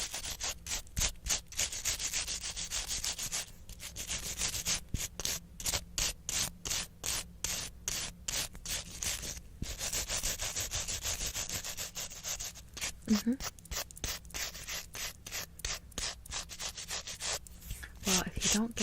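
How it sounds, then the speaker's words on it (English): A small brush scrubs across fingernails to clear away excess polish, oil and filing dust, giving close, rapid scratchy strokes in quick bursts with short pauses between them. "I'm just going to scrub the nails off with this brush to get off all that excess paint, oil, product that we just put on"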